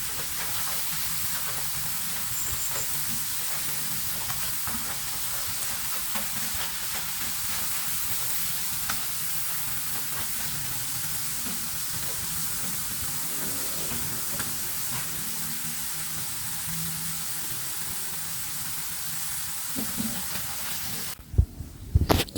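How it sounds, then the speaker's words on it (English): Diced plantain frying for a long stretch in a small pan of oil for homemade plantain chips, giving a steady hissing sizzle throughout with no talk, ending in a few sharp knocks. "so we allowed the plantain to fry for a while"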